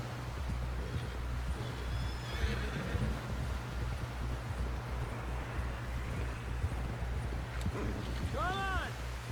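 A horse in Red Dead Redemption 2 lets out a rising, wavering whinny near the end, after steady hoofbeats and a low droning bed of game sound, with voices talking under it.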